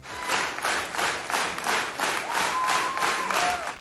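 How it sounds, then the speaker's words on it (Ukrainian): Loud ovation from fans at a rock band's autograph session in Chernivtsi, a dense wash of clapping swelling in repeated waves, with a faint sustained tone drifting over it late on. "А в Чернівцях ось таку автограф-сесію супроводжували гучні овації"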